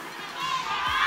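A brief burst of clapping and cheering from a group of people, rising in loudness through about a second, with voices mixed in.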